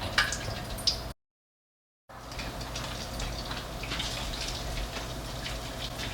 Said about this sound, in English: We'll drop that shrimp right in.